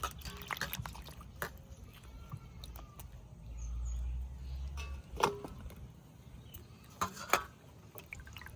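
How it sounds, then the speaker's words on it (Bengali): Ripe tamarind gets a wash in a pot of water in a village kitchen, with faint, scattered splashes, drips and clinks separated by quiet gaps over a low background rumble. "এবার তেঁতুল ভালো করে ধুয়ে নেবো।"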